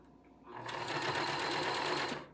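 Sewing machine stitching flannel pants, a steady rapid mechanical whir of needle strokes for about two seconds, starting and stopping cleanly, close and fairly loud with no talk.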